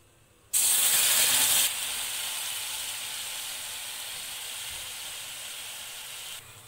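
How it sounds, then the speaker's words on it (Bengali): Spice paste drops into hot oil with whole garam masala and cumin for an aloo paneer dish, setting off a sudden loud burst of sizzling that eases into a steady, close hiss. "এবার আমি এর মধ্যে দিয়ে দেব পেস্ট করে রাখা মশলা।"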